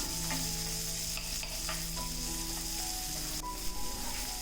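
Garlic and small onions sauté in sesame oil for a tamarind curry, with a steady close sizzle and occasional scrapes of a spoon stirring in the pan.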